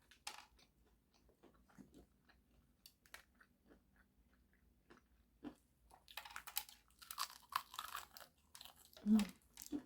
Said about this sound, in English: Nice golden crunchiness. Here we go, first bite.